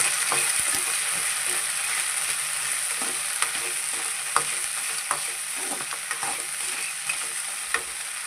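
Cleaned crab pieces tossed and fried in hot oil for a crab gravy, a loud continuous sizzle with regular spatula scrapes and clicks close by.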